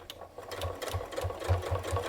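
A sewing machine stitches around an old quilt being turned into a holiday stocking, producing a quick, even mechanical chatter of needle strokes that builds from quiet to steady, close and alone.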